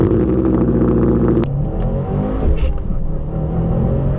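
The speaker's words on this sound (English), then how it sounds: "We're talking about the Subaru Wrx Sti." A Subaru WRX STI engine revs hard, a loud close roar that drops abruptly to a lower rumbling drone after a gear change.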